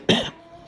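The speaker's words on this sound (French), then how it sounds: "Désolé vraiment pour ma toux." One short, sharp cough, close and abrupt, followed by quiet room tone.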